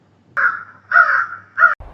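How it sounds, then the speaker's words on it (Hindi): A crow gives three loud, harsh caws close by, each a separate rasping call with short gaps between them, heard alone and followed by a brief soft thump. "कौवा"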